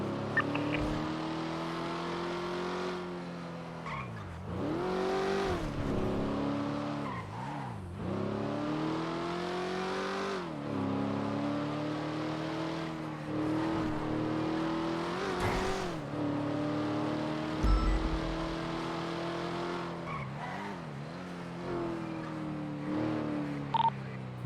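Game car engine droning steadily through a police roleplay drive into Bolingbrook, with repeated rising and falling pitch sweeps as it shifts and accelerates, continuous and fairly loud with no talk over it.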